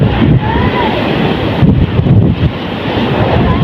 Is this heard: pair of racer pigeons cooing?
no